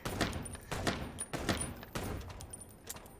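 Gunfire in the video game Chicken Police: a quiet run of several sharp shots at uneven intervals, fairly distant and faint, with no talk over them.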